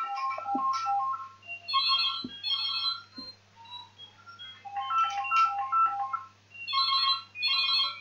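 A telephone rings on its own, its electronic ringtone repeating in short warbling bursts against a low steady hum.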